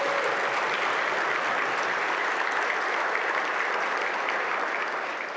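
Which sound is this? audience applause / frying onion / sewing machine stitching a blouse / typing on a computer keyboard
audience applause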